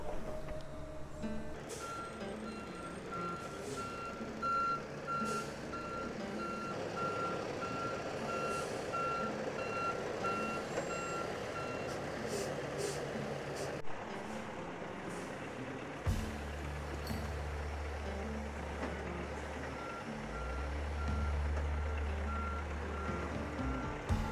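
A big, fully loaded truck reverses outdoors, its backup alarm beeping steadily over a low diesel engine rumble, with a hiss of air brakes and deeper engine surges later on; no one speaks.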